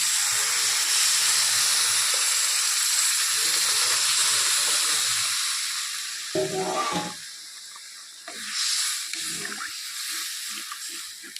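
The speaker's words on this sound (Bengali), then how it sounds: "এখন কিছুটা জল অ্যাড করছি" Water poured into hot curry in a pan sets off a loud hissing sizzle that slowly dies down, then a few utensil clanks and bubbling steam follow close by.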